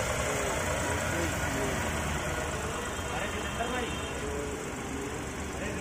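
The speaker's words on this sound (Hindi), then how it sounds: "तो ठीक ठाक इंजन आवाज़ कर रहा है" A Nissan Magnite's one-litre three-cylinder petrol engine idling nearby, a steady low hum and mild knock that runs evenly throughout, with someone talking over it.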